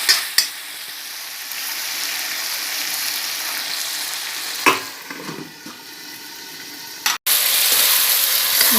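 Chicken with pumpkin curry sizzles and fries steadily in a pan while a spoon stirs it, with a few sharper scrapes and clatters against the metal and no talking.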